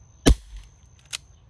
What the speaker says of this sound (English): So I'm gonna shoot as high as I can by the head.